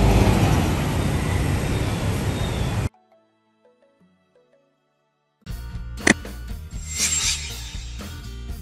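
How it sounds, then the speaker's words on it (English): Coach bus passing nearby with a loud, steady broadband roar for about three seconds, then a stretch of near silence before a separate busier burst of vehicle noise with a sharp click. "Coach."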